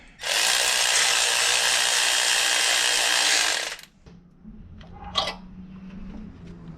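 A power tool bolts down a turbo flange during a car build, a loud sustained whir running about three and a half seconds before stopping, followed by quieter handling sounds and a short metallic clink.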